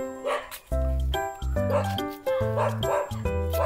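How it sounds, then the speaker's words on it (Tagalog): A dog at a rural mountain home barks and yips in short, close bursts, about five sharp woofs spaced through the moment with whiny tones between, loud and near. "Uy, may aso din kayo."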